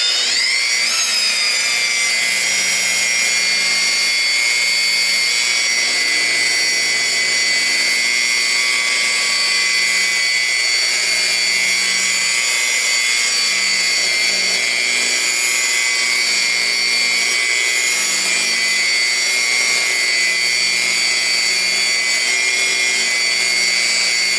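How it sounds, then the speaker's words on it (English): Car polisher working on a 1977 Camaro Z28 at about 1600 rpm, giving a loud, steady, high whine with a constant pitch throughout, close up and with no talking. "I thought I was running the polisher too fast because it said 1500 to 1800. I have it at 1600"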